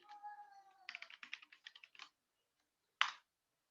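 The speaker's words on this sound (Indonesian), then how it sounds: "kalau saya ngetik seperti ini" Keys clatter on a computer keyboard in a quick run of close, light clicks after a short tonal sound, then a pause and one sharper click; no one speaks.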